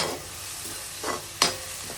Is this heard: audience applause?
no